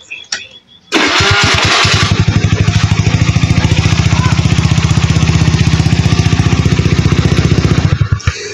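A motorcycle engine with a faulty vacuum cranks and catches, then settles into a loud, steady, rhythmic idle that runs for several seconds before cutting off.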